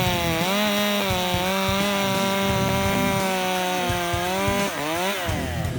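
Echo CS-620P chainsaw fitted with a 20-inch bar, running steadily under load and then dipping and recovering in pitch, loud and close with no talk.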